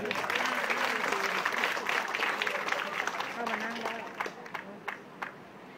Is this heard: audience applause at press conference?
yes